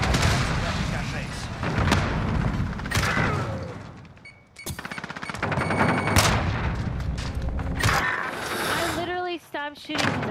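Gunfire in a first-person shooter video game plays in bursts of rapid, loud shots. A short pause comes near the middle, and game announcer voices and effects are layered over the shooting.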